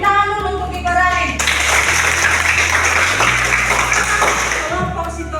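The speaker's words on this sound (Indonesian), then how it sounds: "Tepuk tangan dulu untuk gibberellin." Classroom applause for a student group during a school lesson, a dense wash of clapping from many hands that holds steady for several seconds, with voices mixed in at the start and the end.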